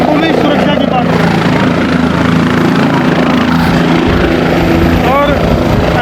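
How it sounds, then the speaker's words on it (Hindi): Helicopter, an Aryan helicopter carrying a minister, passing over a large crowd in Nuh, its steady rotor and engine drone loud and continuous throughout, with crowd voices and talk mixed in underneath. "हेलीकॉप्टर की अगर मैं बात करूँ तो ये आर्यन हेलीकॉप्टर है भाई"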